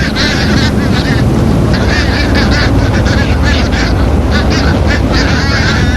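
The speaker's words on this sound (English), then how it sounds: "Brown boobies follow the trawlers constantly," Brown boobies call near a fishing trawler at sea, repeated honking cries over constant loud wind and engine rumble, with no speech.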